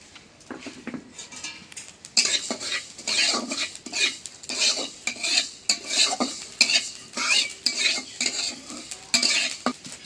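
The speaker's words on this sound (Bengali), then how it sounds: "এখন মশলা ভাজি করব।" Spices fry in a pan for pickle making. A spoon stirs and scrapes against the pan in a steady, rhythmic way over a constant sizzle, close and fairly loud, with no talking.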